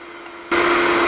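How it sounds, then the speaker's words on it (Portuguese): Electric stand mixer beating frosting for cupcakes after a water-bath step, a low hum that jumps abruptly to a loud, steady whirring roar halfway through. "Depois do banho-maria, a gente vai bater de novo na batedeira."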